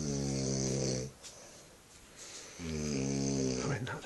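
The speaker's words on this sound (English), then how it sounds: "How can you fucking snore like that?" A person snores loudly and close by: two long, rasping inhalations with a quieter breathy pause between them.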